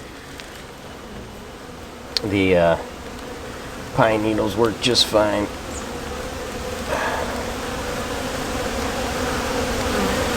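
Honey bees buzz around an opened brood box during a hive inspection, a steady insect drone running throughout while a person talks intermittently nearby.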